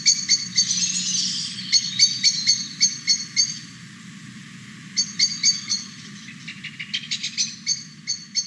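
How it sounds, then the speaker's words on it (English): Repeated sharp chinking blackbird calls ring out in bursts as several birds go to roost, over a low steady background rumble, moderately close. "the sound of blackbirds going to roost"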